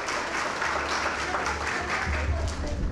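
An audience bursts into applause at a health talk, a dense wash of clapping that fills the room throughout, with voices mixed in underneath.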